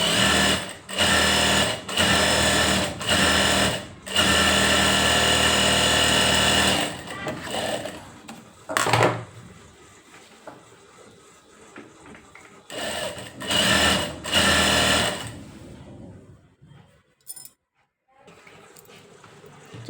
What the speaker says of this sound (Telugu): ఇప్పుడు మళ్ళీ ఇక్కడ ఎడ్జ్ కుట్టేసి రావాలి.